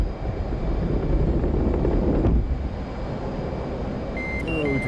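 Simulated F/A-18C Hornet jet launching off an aircraft carrier in the DCS World flight game, a loud steady engine roar with a surge near the middle, a few short cockpit beeps near the end.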